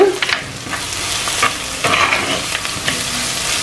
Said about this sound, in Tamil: இப்போ ரெண்டு நிமிஷமாக வதங்கி கொண்டிருக்குது